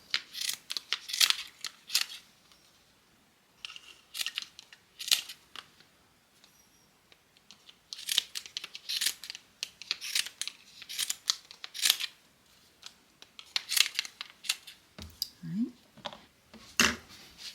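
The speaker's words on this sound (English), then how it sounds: "I'm just going to trim the yarn" Repeated sharp snips of scissors trimming yarn, coming in quick clusters with short pauses, close and crisp with no talking.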